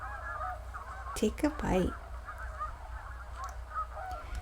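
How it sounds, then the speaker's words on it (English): Baby snow geese honk in a quick cluster of a few nasal calls near the middle, with a voice speaking briefly over quiet background. "They honked happily, and the baby snow geese sat right on the alicorn and dragon's back"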